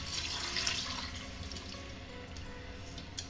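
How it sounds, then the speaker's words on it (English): White wine pours into a pan of clams, a soft continuous liquid splash and trickle, faint and close, with no talk. "And we mix, and now we're going to pour the wine"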